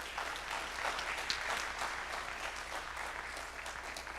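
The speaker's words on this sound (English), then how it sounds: "let's give a round of applause to our elders who are in the room" Moderate applause from a symposium audience honoring elders, an even patter of many hands clapping at some distance, fairly soft and continuous.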